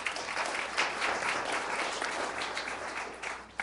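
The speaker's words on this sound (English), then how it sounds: "So here's my round of applause." Applause at a planning and zoning meeting, a steady, fairly quiet patter of clapping from a room of attendees lasting a few seconds.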